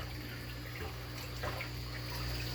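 Steady water splashing from a Tetrafauna Decorative ReptoFilter, spilling in a small waterfall into a reptile tank; a continuous close trickle and splash with no talk.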